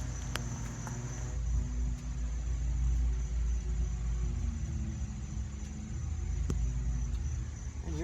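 A 1968 Chevy Impala custom coupe with a 540 V8 idles with a deep, steady rumble through Hooker headers and a 3-inch exhaust, loud and close, with a faint high whine throughout.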